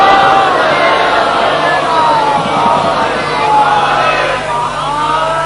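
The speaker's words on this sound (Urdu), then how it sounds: "اتنی ہی بلند صلوات سارا مجمع مل کر محمد و آل محمد پڑھو" A large gathering at a majlis chants salawat in unison, a loud, dense wall of massed voices sustained throughout, rising and falling slightly without pause.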